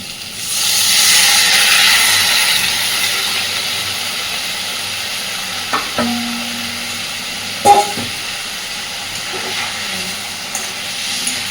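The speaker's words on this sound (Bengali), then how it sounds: "পুরো জলটা শুকিয়ে তেল ছাড়া পর্যন্ত আলুর সাথে মশলা কষাতে থাকবে।" Spice paste and potatoes stir-fry in hot oil in a pan for a stingray fish curry, giving a strong steady sizzling hiss that swells early and then settles. Scattered clinks and scrapes of a spatula against the pan break in.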